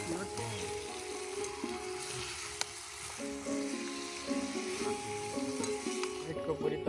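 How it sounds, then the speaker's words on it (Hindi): Chicken with onions and garlic sizzles steadily in a pan over a village cooking fire, a continuous close frying hiss with occasional stirring scrapes, while people talk quietly in the background. "अब इसको चिकन को डाला जा रहा है इसमें।"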